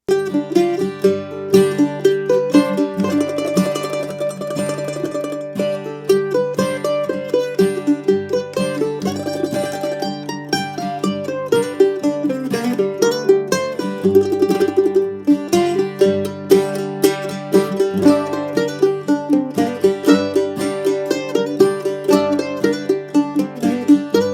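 A mandolin picks a slow bluegrass tune with ringing plucked notes and a continuous strummed backing, played alone without any talking.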